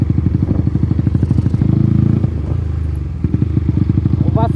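A Honda Titan motorcycle engine, newly rebuilt, revs loudly up close in rapid pulsing bursts, dropping briefly to a lower idle before climbing again.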